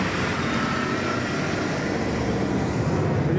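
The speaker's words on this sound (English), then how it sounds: "Chinook's coming back in, brilliant." A Chinook helicopter flies back in toward an airport, its broad, steady rotor and engine roar filling the air loudly and continuously without pause.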